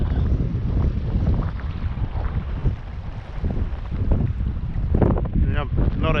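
Strong gusts buffet the microphone on a kayak at sea during a windy morning of squid fishing, a rough, blustery rumble that surges and eases with water sloshing underneath and a few brief vocal sounds.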